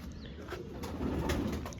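Pigeons coo faintly amid soft rustling and wing flutters outdoors, a quiet, brief stretch with no talk.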